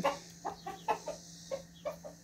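A rooster gives a series of short, close clucks in quick irregular bursts, about nine in a couple of seconds, with faint background hum.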